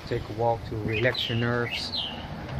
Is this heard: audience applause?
no